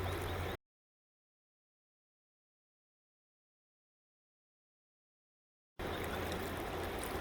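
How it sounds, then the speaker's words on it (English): A high-volume river, the Yakima, rushing steadily and carrying branches and willow debris, a loud continuous wash of flowing water broken by a long stretch of silence in the middle. "Because the river's moving at such a high volume"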